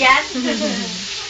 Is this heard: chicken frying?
yes